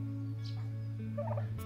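A turkey on a farm in the Philippines gobbles once in a short, rattling burst, heard fairly close over a low steady hum, with no talking.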